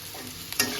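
Chopped tomatoes go into a pan of frying onion, garlic and chili for a Lote fish dish, and a steady sizzle swells into a brief, louder burst of spitting oil near the end.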